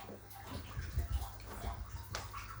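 A mbuna cichlid aquarium refills during a water change, with water pouring and splashing steadily, fairly faint and close, without pause.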